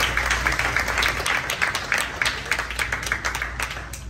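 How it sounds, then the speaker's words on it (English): Audience applause at an award show honoring absent Chairman Award recipients: a steady wash of many hands clapping throughout, moderately loud and close, with no talk over it. "So clap for them in their absence."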